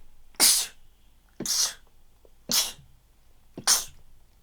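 Four sharp sneezes from a person, evenly spaced about a second apart, close and loud against a quiet background, each a sudden burst that fades quickly.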